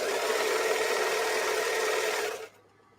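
Serger overlock sewing machine running through heavy fabric, a loud continuous whirring buzz for a couple of seconds that cuts off abruptly near the end.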